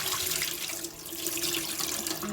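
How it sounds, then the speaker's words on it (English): Seeds being rinsed under a running tap, a steady broadband rush of water into a jar or sink that holds for the full couple of seconds, close and fairly loud with no talking. "I like to just rinse them off."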